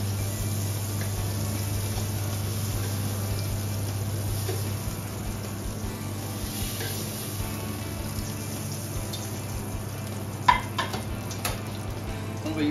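Fruit slices fry in butter in a pan, giving a soft steady sizzle under a low hum, with a few clinks and stirring knocks near the end.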